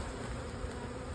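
Honey bees buzz inside a nuc hive during a hive split, a dense continuous hum heard up close and alone.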